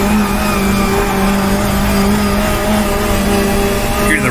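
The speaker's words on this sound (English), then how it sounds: "Rear tires skipping across the pavement as we corner there." Race car in GTR2 at Brands Hatch, 1966 British Saloon Car Championship, rear tires skipping across the pavement through a corner, a steady loud engine drone with a continuous tire-scrub hiss throughout.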